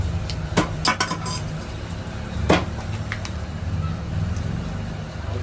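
Sharp metallic chops and clinks of a blade cutting through a country rooster's meat, a few quick strikes in a cluster, then another hit amid steady background noise.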